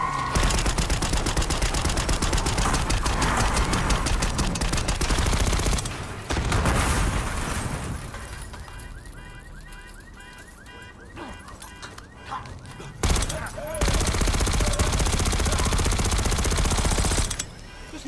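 Dense, loud automatic gunfire in the Call of Duty Black Ops 6 mission Blood Feud as a limo comes down a street, sustained bursts in two long stretches separated by a quieter lull with faint activity.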